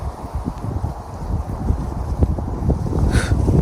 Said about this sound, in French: je sais que l'audio va être nul parce qu'il y a trop de vent dehors